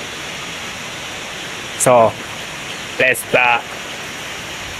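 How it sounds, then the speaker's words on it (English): Steady broadband rush of Tiger Cave Waterfall in Da Lat, Vietnam, filling the background continuously, with someone speaking briefly over it in a few short phrases. "the water I explore today is the Tiger Cave"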